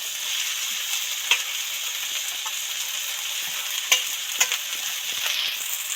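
Chopped kulekhara greens go into oil with already fried onions, vegetables and turmeric, producing a steady close sizzle with occasional spatula taps and scrapes and no speech.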